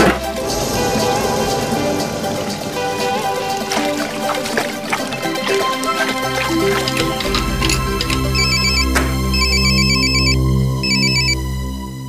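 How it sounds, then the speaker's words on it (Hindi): A telephone rings repeatedly in short electronic bursts over a busy musical background, the rings continuing steadily near the end. "हाँ पंकज, कितना आपका फोन आया दोबारा?"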